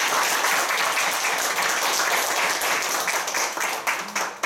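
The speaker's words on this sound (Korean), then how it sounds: "우리 다 같이 주님께 감사하는 마음으로 박수를 드리겠습니다" A church congregation applauds together, a dense, continuous wash of clapping that stays loud and steady, thinning slightly toward the end.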